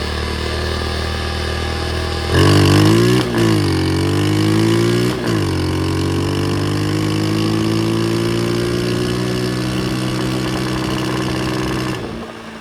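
A pit bike engine runs on choke, starting at a steady idle, then revving up loudly with pitch swings before settling into a high, even drone that cuts off near the end. No one talks.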